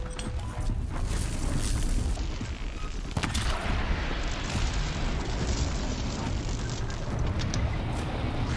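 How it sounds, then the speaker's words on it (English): A loud, sustained explosion from the video game Horizon Zero Dawn, a dense roaring blast that fills the whole stretch without pause, with no talk over it. "That's an explosion."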